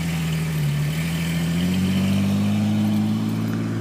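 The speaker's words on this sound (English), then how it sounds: "you see a lot of trucks drive by here in Lufkin, Texas" A vehicle engine, taken to be a truck, rolls past on a town street in Lufkin, Texas, a loud steady mid-pitched drone that rises slightly in pitch as it passes close by.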